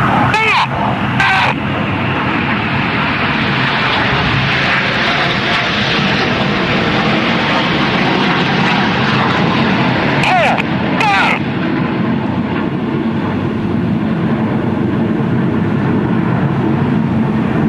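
Red Arrows display jets performing formation rolls at the Eastbourne International Airshow, a continuous loud broadband jet roar that fills the whole stretch, with brief sharper bursts early on and again near the middle.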